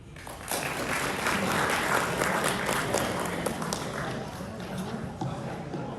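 An audience applauds at a Rotary speech competition, steady and fairly loud clapping that rises quickly and continues for several seconds before tapering slightly.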